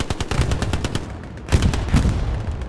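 Gunfire in the World War II shooter Hell Let Loose, rapid bursts of automatic rifle and machine-gun shots rattling close by, with heavier reports mixed in, continuous throughout.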